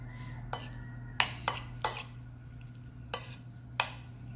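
Spoon clinking against a bowl while stirring tuna kilaw with calamansi juice, about seven sharp, separate clinks at an uneven pace over a steady low hum, close and fairly loud.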